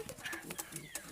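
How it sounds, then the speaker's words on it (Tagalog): Pigeons coo in a quick series of short, soft throaty notes close by, faint and brief, with a voice speaking quietly underneath. "Ito babae, ito mga kalapatids."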